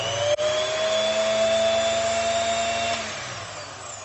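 A TECEPO 1600W 10-inch miter saw runs at a steady high-pitched motor whine after a brief click at the start, then begins spinning down near the end. The sound is close and loud, with no voices.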